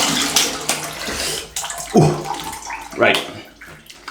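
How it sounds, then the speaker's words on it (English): Cold water splashing and rinsing a face after shaving, bursts of running and splashing water at a sink broken by short pauses, with a man's brief remarks in between. "rinse actually with cold water"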